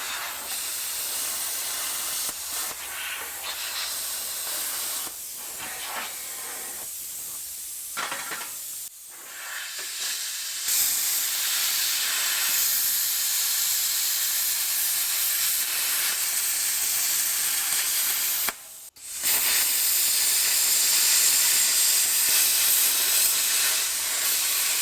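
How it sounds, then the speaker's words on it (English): A plasma cutter hisses steadily through metal on a Toyota build, a loud, close, sustained rush that breaks off briefly a few times before starting again, with no voices. "I'm just going to fire up the plasma cutter and finish the cut here"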